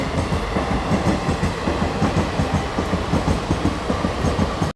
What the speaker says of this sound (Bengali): চলে গেল একটা ট্রেন